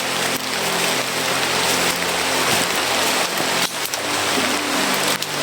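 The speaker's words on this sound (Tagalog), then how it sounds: "Grabe din na lakas ng ulan." Heavy rain pours down in a steady, dense hiss that fills the whole stretch without letup, with a few brief knocks and shifts in the downpour.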